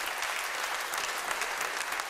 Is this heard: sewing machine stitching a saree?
no